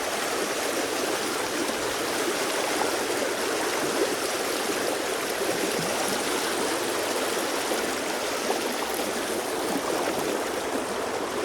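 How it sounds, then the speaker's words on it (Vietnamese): Mountain stream flowing steadily, a loud, continuous broadband rush of water close by with no pauses and no voices. "Men theo cái suối này đi lên trên kia xem."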